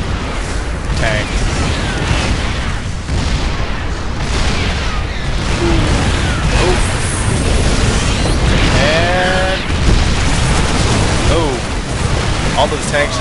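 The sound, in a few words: siege tanks exploding, destroyed in StarCraft II video game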